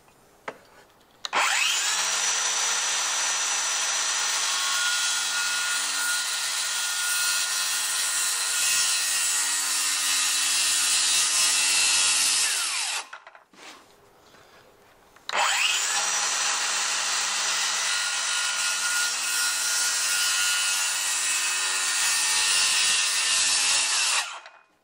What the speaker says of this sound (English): cutting out some dowels so that we can peg those